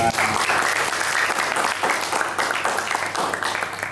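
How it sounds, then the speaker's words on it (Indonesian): Dense, steady applause fills the room from a class audience during a citizenship lesson, a continuous wash of many hands clapping at once. "kita beri tepuk tangan untuk"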